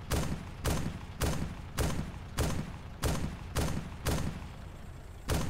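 Gunfire in the military video game Arma 2, a steady series of about ten evenly spaced loud shots, each with a short echoing tail.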